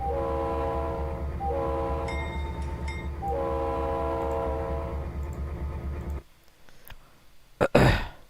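A BNSF SD40-2 locomotive in the Trainz game sounds its multi-tone horn in three sustained blasts over a steady diesel rumble, then the engine noise drops away and a sharp burst of noise follows near the end.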